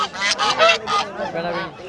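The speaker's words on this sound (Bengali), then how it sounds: "এই যে এই দিকটাতে যে চীনা হাঁস আছে" Chinese geese honk repeatedly at a rural market in Bangladesh. The loud, nasal calls come close together in quick bursts, with faint crowd voices underneath.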